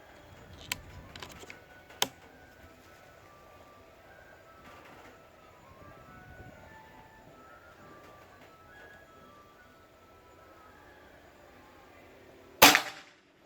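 A single sharp crack from a Bocap Pajero Gen 5 full-CNC PCP air rifle rings out alone near the end, after a quiet stretch with a few faint ticks and clicks.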